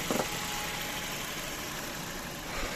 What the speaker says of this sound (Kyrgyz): Мотордун жүрүшү дагы өтө сонун.